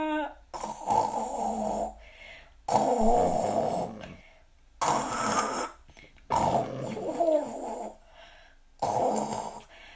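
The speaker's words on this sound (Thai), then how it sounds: "จูเลียนกรนเสียงดังยังกับหมีป่นเลยล่ะ" Loud, rasping snores repeat in four long bursts with short quiet gaps, each breath dragging and rumbling like a growl, as a character in a Thai Playmobil family story sleeps.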